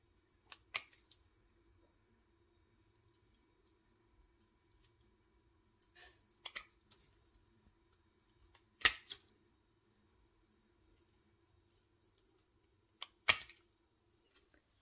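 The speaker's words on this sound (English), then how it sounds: "I cut the branches into small parts." Conifer branches from the garden are snipped into small pieces, heard as a few sparse, close, quiet cuts and clicks separated by silence.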